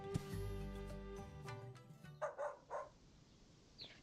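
A dog in the video game Tales of Seikyu gives a few short barks with yips in between, playing quietly over a bed of game music.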